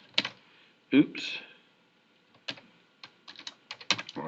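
Scattered computer-keyboard keystrokes in MATLAB come in short clusters of light, close clicks, with brief spoken words between them.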